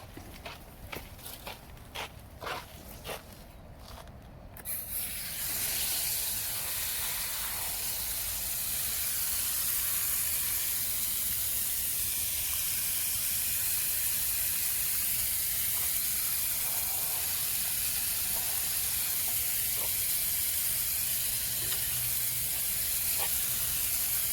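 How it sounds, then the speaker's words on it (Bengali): A garden hose pipe watering a vegetable and flower garden, opening with a few clicks and handling knocks before a steady, close rushing hiss of spraying water that continues unbroken to the end. "এখানে এই পাইপ দিয়ে আমি বাগানে এখন জল দিয়ে দেবো"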